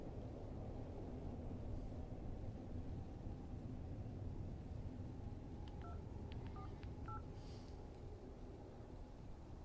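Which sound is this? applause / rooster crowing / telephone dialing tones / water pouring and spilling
telephone dialing tones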